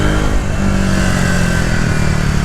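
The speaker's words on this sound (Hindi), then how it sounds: "The exhaust sound is very bassy, boomy," A Triumph Speed 400 motorcycle's exhaust rumbles loud and close, a bassy, boomy engine note held steady across the whole stretch with no voices.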